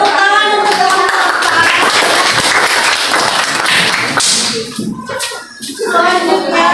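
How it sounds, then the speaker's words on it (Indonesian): Students in a classroom clap together, a loud close burst of hand clapping with some rhythmic patterning that dips briefly before picking up again, with children's voices mixed in. "tepuk tangan untuk teman-teman."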